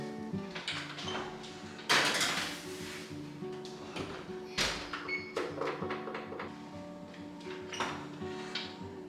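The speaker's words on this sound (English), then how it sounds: "Now I'm going to slide these into the oven for about 20 minutes" Tray of vegan pumpkin chocolate-chip muffins slid into a home oven: a few clattering metal scrapes and a sharp clunk near the start, with lighter knocks afterward over steady background music.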